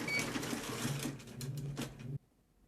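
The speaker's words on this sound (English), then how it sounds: "it was the machine setting a few stitches, and it just stopped to give you time to trim the thread" A Bernina embroidery sewing machine runs a few stitches, a close mechanical whirring and ticking that holds for about two seconds, then cuts off abruptly into quiet.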